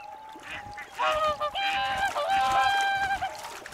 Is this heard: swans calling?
yes